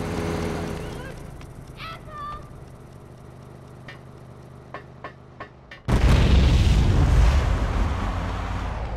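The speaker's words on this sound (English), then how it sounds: "Rocket launcher." A rocket launcher explosion in the top-down game GTA2 lands as a sudden loud boom. A long rumbling blast follows, coming after a quieter stretch of game sounds and voices.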